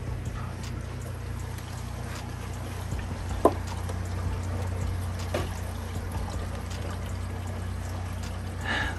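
Water flowing through the filtration of a 220 gallon discus aquarium with an automatic filter roller, a steady low rushing pour with occasional splashes and clicks, close and constant, no talk.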